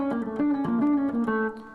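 An electric guitar plays a quick seven-note-per-string scale run, clear single notes stepping along in a smooth legato line, close and alone, ringing out briefly at the end.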